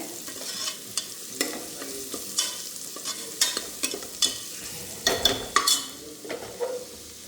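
Curry leaves and spices frying in a pan while being stirred: a close sizzle broken by repeated scraping and clattering strokes throughout, with no talking.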